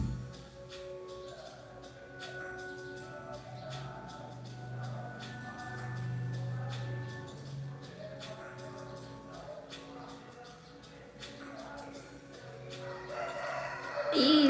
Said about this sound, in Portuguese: o galo